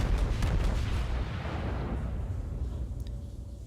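Naval gunfire in a warship video game, aimed at a destroyer from long range. One deep boom rolls and fades slowly into a low rumble that fills the whole clip.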